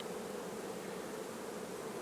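Honey bees buzz steadily inside an open beehive during a farm hive inspection, a dense, continuous drone of many insects close up with no voices.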